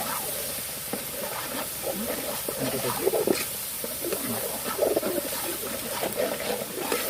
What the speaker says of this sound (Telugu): ఈ అల్లం వెల్లుల్లి పేస్ట్ పచ్చివాసన పోయేంత వరకు వేయించుకోవాలి మనం